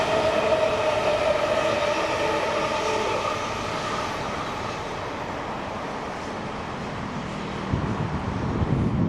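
Heritage steam locomotive 3526 rolling past on a New South Wales line, a steady loud rumble of wheels and carriages with a noisy wind-blown hiss, swelling again toward the end.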